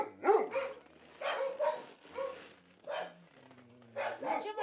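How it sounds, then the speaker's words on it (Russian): A three-year-old male Yakut aboriginal hunting laika barks several times in short bursts at moderate distance, with some faint whimpering between the barks. "Якутская охотничья аборигенная лайка."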